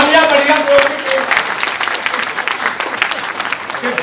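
Loud, steady applause from an audience at a comedy poetry show, clapping filling the hall for about four seconds and slowly tapering.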